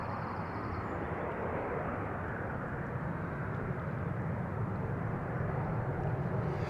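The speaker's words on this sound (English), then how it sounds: "Bit of a slow start there, but in the end a regular takeoff" An airliner takes off from runway 36L at Amsterdam Schiphol Airport, a steady broad jet roar that stays loud and even for the whole stretch, with no voices over it.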